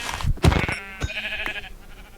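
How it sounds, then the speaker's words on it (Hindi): Sheep bleating in the Minecraft video game, a few short wavering bleats close together in the first second and a half, fairly loud and alone with no talk. "मेरे पास यहाँ पर भेड़ ज़्यादा थी, तो मैं वाइट वाले भेड़ को देखकर यहाँ पर टपका देता हूँ"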